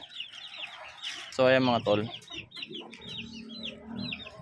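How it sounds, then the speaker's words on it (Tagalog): Hens cluck nearby in short repeated calls while a person speaks briefly, with one louder drawn-out squawk in the middle, as they are being fed. "magpapakain ako ngayon ng manok ng nanay ko"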